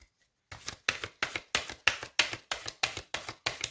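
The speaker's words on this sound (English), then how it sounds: "What's going on with my shuffling in this reading?" Tarot cards are shuffled in a steady run of about ten quick, evenly spaced riffles, close and crisp, after a brief silent start.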